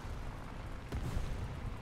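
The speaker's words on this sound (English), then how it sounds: "Whoa, what an explosion." A distant, muffled explosion in a tank battle video game, a low rumbling boom that swells briefly over a steady dull roar of background noise.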